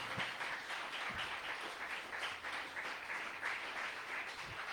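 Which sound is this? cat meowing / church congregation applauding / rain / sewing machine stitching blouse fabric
church congregation applauding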